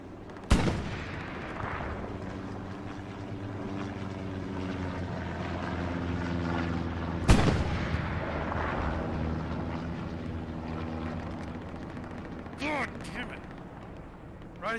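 Gunfire in a World War II shooter game at Sainte-Marie-du-Mont, two sharp loud shots spaced apart over engine and propeller rumble, with a few fainter pops near the end and someone talking.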